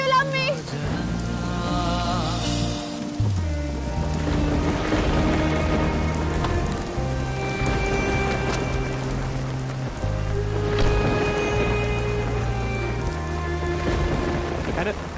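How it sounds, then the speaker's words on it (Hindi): Steady rain falls outdoors in a dramatic scene, a continuous wash of rain noise running through the whole stretch beneath prominent background music. "बारिश हो रही है."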